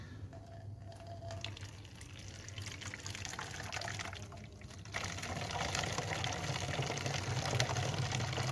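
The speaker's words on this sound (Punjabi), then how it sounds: "ਇਹ ਬੋਤਲ ਦੇ ਵਿੱਚ ਆਸਾਨੀ ਨਾਲ ਪੈ ਜਾਏਗਾ ਪਾਣੀ" Water is poured into a bottle for bathing pigeons, a steady close gurgling fill. The sound grows slightly fuller and louder partway through.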